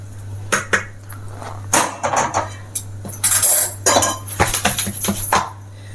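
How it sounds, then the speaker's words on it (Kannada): A Karnataka 7 cups sweet is pressed into a plate with a ghee-greased cup, giving a run of sharp metallic clinks and taps at irregular intervals over a steady low hum. "ಒಂದು ತುಪ್ಪ ಅಂಟಿಸಿರೋ ತಟ್ಟೆ ಕಪ್ ತೊಗೊಂಡು ಅದನ್ನು ಹಿಂಗೆ ತಟ್ಕೊಂಡ್ಬಿಡ್ತಾ ಇದ್ದೀನಿ"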